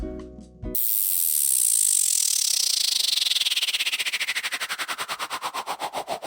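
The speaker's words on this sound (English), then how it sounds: "You can hear how it starts kind of crispy and very fast and fluttery at the beginning" A synth riser for an EDM buildup starts crispy with a very fast, fluttery LFO-modulated buzz, then the pulses gradually slow into distinct throbs, loud and alone after a brief different sound at the start.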